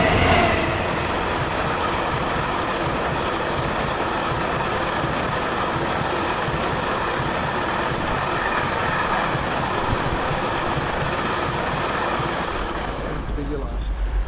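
Steady rumble and rattle of a train running on rails, heard from the front carriage, loud and continuous for most of the clip before easing near the end.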